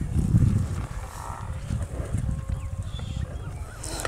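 A herd of Nili buffaloes gathered outdoors, giving low moos and grunts amid steady rumbling herd and wind noise, with occasional hoof sounds and faint voices in the background.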